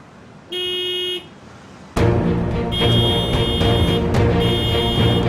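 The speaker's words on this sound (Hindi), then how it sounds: "अंधे हो या बहरे, हॉर्न की आवाज नहीं आती?" A car horn honks twice, first a short steady tone, then a longer blare over a loud idling engine rumble, close and sharp against the traffic noise.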